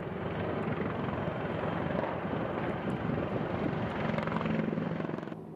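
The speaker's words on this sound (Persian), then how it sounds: "هلیکوپتر آمریکایی در حال پرتاب منور برای شناسایی وضعیت و فرود تفنگداران دریایی" A US military helicopter drops flares at night, its rotor and engine roar loud and steady throughout, with rough wind buffeting over the drone.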